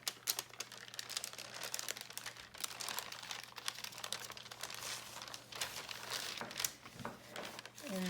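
Parchment paper lifted off a sheet of melted crayon art, giving a long run of close, dry crinkling and crackling with bursts of papery rustle, fairly quiet throughout.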